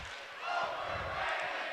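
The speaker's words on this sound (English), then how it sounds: "You can hear the crowd, the West student section yelling overrated over there" West student section at a Wausau East versus Wausau West boys high school basketball game, a brief burst of crowd yelling in unison, fairly distant and faint, with general gym crowd noise around it.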